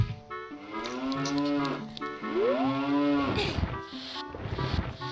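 Cows on a farm in Zelda: Ocarina of Time moo repeatedly, their drawn-out lowing calls loud and near, one overlapping another against a steady ambient backdrop with no talking.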